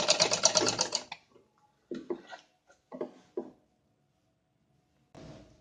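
A sewing machine stitches around a kurti collar in one rapid, rattling burst of about a second, followed by faint handling sounds and a short softer run at the end, nearby.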